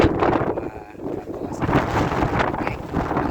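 Strong typhoon wind roars steadily across the microphone in broad, gusting rushes among bamboo in the Philippines under storm signal number 3, loud and close with no clear voices.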